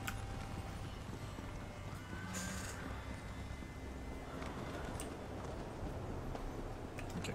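A horse gallops in a video game with steady, continuous hoofbeat clip-clop under faint background game sound, and a brief whinny-like tone partway through.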